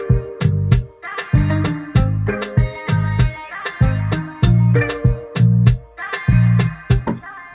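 Sliced vocal loop pitched up and sequenced in an Afrobeats-style beat, choppy rhythmic vocal stabs over punchy repeating drum hits, loud and alone.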